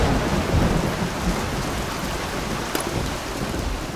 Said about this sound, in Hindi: इतनी बारिश हो रहा है, बादल गरज रहा है